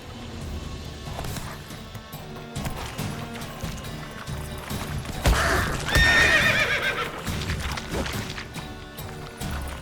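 Roach, a horse in The Witcher 3, clops along, then gives a loud, shrill neigh mid-passage, with a rumbling hoofbeat rhythm and game ambience throughout.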